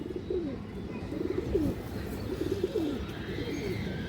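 Pigeons at a farm coo repeatedly in soft, rolling calls, several overlapping phrases rising and falling over a low background murmur.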